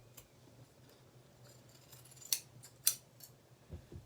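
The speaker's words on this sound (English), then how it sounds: "take my scissors and cut right down the middle" Scissors snip through pressed quilting fabric on an ironing board, two sharp, crisp cuts close by standing out over a quiet room hum, with a few softer rustles around them.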